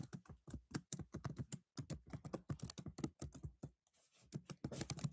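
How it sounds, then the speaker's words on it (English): Quiet, irregular clicking of keys on a computer keyboard in short rapid bursts with brief pauses, heard close and alone. "I'm just typing something up"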